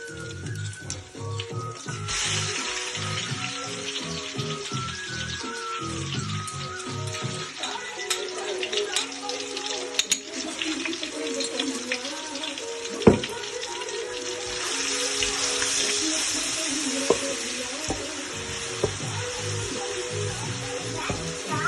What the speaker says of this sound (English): now I'm just adding the ginger garlic paste and the chili here first.